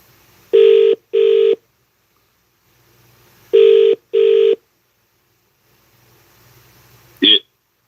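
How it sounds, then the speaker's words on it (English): A telephone line rings out with two loud, clear double-ring tones, separated by a pause, as a call is placed back to a radio show caller, ending with a brief click. "I'm going to call back the caller."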